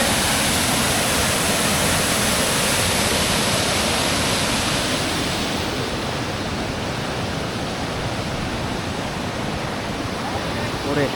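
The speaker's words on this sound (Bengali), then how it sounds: "দেখেন আমি আকুমের ঝর্ণা, বা একেবারে প্রাণ জুড়ানো ঝর্ণার আওয়াজ।" Amiakhum waterfall, set among big rocks and hills, roars as a loud, dense, continuous rush heard from close by, steady for the whole stretch.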